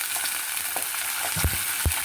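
Small diced potatoes fry in hot oil with cracked green chili and bay leaves, a steady crackling sizzle with a couple of louder thuds of stirring near the end.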